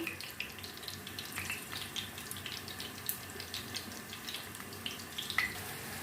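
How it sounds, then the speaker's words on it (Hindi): Macaroni kababs frying in oil over a low flame: a soft, continuous crackle and bubbling with scattered faint pops, steady throughout and free of speech. "हल्की आंच पर हमने फ्राई करना है इनको।"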